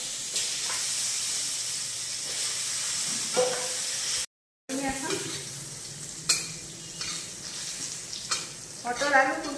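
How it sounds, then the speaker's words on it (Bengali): Cut potatoes and pointed gourd fry in oil left over from frying fish, a loud steady sizzle with stirring clatter and bursts of spitting, broken by a short silent gap and a brief spoken word. "এই একই তেলের উপর দিয়ে দিলাম কেটে রাখা আলু আর পটলগুলো।"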